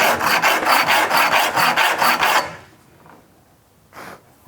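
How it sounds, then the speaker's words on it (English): A Shinto saw rasp is drawn in quick repeated strokes to bevel an edge, making a loud, rough, rhythmic scraping for a couple of seconds, then going nearly quiet before one short final rub. "you can resort to your trusty Shinto saw rasp"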